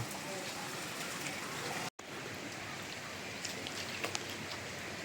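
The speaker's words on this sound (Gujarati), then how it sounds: "વરસાદ આવી ગયો છે" Rain coming down in a steady, even hiss across the whole stretch, moderately close, broken only by a momentary dropout partway through.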